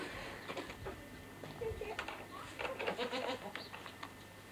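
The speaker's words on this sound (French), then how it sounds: "Chèvre." A goat bleats several times on a farm, short wavering cries rising out of background murmur, with people talking nearby and a bird or pigeon faintly in the mix.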